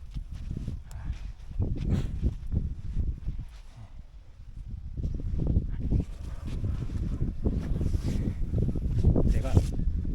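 Strong wind at a sandy beach buffets the microphone in loud, continuous low gusts and rumbles that swell and ease throughout.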